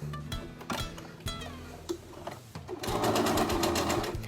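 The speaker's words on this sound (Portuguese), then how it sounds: "depois do molde recortado, vamos costurar as laterais aqui das nossas jardineiras" A sewing machine stitches the side seams of dungarees, its needle ticking out rapid regular bursts that stop and restart, then run as a longer steady burr, close and clear with no talk.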